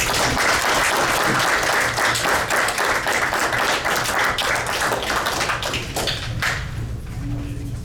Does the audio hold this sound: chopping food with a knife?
no